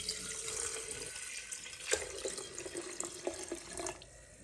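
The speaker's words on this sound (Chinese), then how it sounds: "加入清水" Clean water pours steadily into a health-pot kettle, a running, splashing stream close by with a few brief louder splashes near the end, and no talking.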